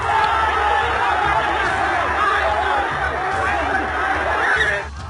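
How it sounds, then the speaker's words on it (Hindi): Dense crowd noise at a funeral procession where mourners chant slogans, a steady loud mass of voices with overlapping shouts throughout, easing slightly near the end. "इस दौरान जनाजे में उमड़े लोगों ने पाकिस्तान के समर्थन में नारेबाजी की"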